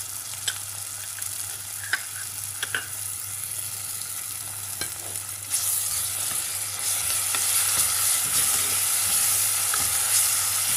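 Ginger garlic paste fries in a pan for a goat head curry, a steady, close sizzle with a few light clinks early on, swelling into a louder, fuller hiss partway through.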